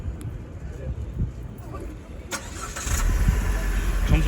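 A 2021 Chevrolet Trax fires up by remote start, with a sharp catch midway followed by a louder steady idle rumble, and a voice talking over it.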